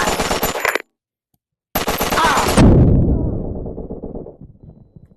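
Rapid bursts of automatic gunfire from a full magazine emptied in a video game, loud and close, broken by a short gap, then a heavy rumbling blast that fades out.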